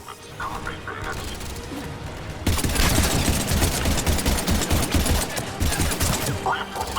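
Sustained automatic gunfire in Mass Effect Legendary Edition, erupting suddenly after a quieter stretch with radio chatter into a loud, continuous rattle of rapid shots in a combat scene.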